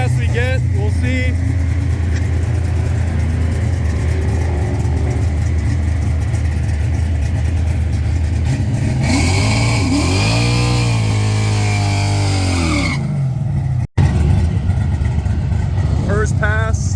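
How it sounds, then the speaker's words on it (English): A NASCAR-engined Plymouth Duster drag car roars through a burnout, loud and sustained, with engine pitch swinging up and down midway before a brief cut and a return to full noise. "first burnout of day 2"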